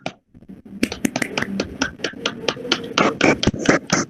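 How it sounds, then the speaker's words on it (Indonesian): Students in an elementary classroom clap for a classmate who asked a question, a close, uneven patter of individual hand claps that starts after a brief pause and continues steadily. "tepuk tangan untuk yang sedang memberikan pertanyaan"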